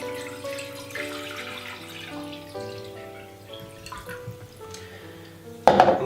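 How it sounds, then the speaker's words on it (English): Water is poured into a cooking pot for boiling pasta, a soft trickling splash that rises into a brief louder burst at the end, heard alone. "I'm going to pour it into the pot."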